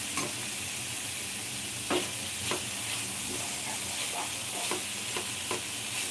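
Paneer and peas masala roasting on low gas, quiet sizzle with occasional spatula scrapes against the pan, fairly faint and steady, no voices.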